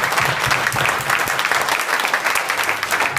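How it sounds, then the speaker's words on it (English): Audience applause at an evening talk on rebuilding the economy with Bitcoin and cryptocurrencies. Steady, full clapping fills the room for about three seconds without talk. "If we could give them a round of applause."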